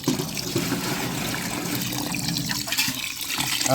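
Water pours steadily onto rice in a pot in a continuous splashing stream, close and fairly loud, with no talking.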